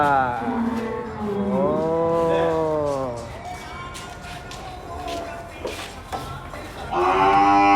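A Rajasthani cow moos loudly and near, in long drawn-out calls at a cattle-feeding session, with shuffling and people's voices in the background.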